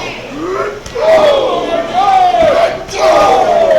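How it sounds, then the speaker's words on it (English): A hostile crowd at a wrestling show in a brewery, Indiana City Brewing Company, shouts and chants in loud, sustained waves, with rising group yells and cheers filling the room throughout. "you heard this crowd here in Indiana City Brewing Company"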